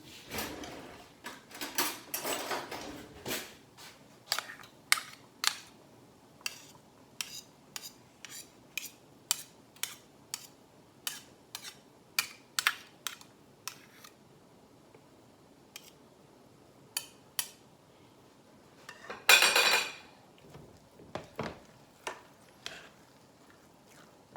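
A spoon tapped against a pot to knock off stiff cornmeal: a dense burst of quick metallic knocks, then a long run of evenly spaced single taps, with one louder scraping clatter near the end.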